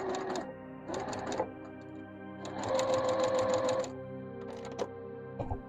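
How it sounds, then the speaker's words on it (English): A sewing machine runs in bursts as it stitches a 1/4 inch seam around the edge of a fabric bag, with its steady mechanical whir starting and stopping between short pauses. "I'm just going to sew around the edge of this."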